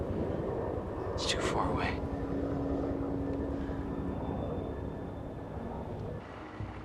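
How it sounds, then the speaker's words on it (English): A distant Huey helicopter drones steadily far off, a low broad rumble with a faint rotor pulse under wind, while a voice speaks briefly over it. "A helicopter! Dad! Sounds like a Huey."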